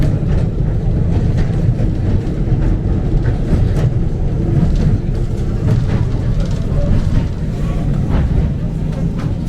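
Vintage Bendigo tram rolling along its rails, a continuous loud, close rumble with rattling and clacking from the car over a steady low drone.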